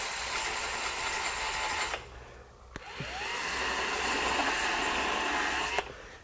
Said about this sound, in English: So I can real quickly just bevel that inside lip.